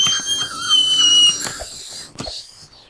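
A piercing, sustained high-pitched screech from a dungeon-escape video game rings out for over a second before breaking off into scattered squeaky noise and fading.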